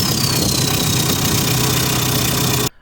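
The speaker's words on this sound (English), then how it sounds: "in the first clip I will show you how it's hard to start the diesel without" A diesel engine in a Mitsubishi Delica, struggling to start without working glow plugs, runs with a steady, rough mid-pitched clatter at close range, then cuts off abruptly near the end.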